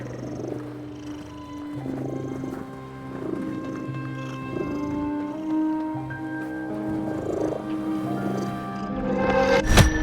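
A cat in the video game The Midnight Walk purrs in a steady rhythmic loop, soft rising and falling breaths over a low ambient musical drone, with a brief sharp rustle at the very end.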